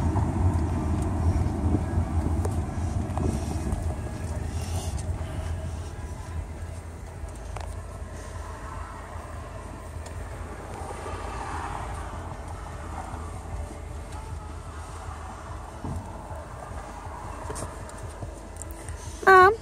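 Steady low rumble of a car driving along a road, continuous and fairly loud throughout, with faint scattered knocks and a brief sharp bump near the end.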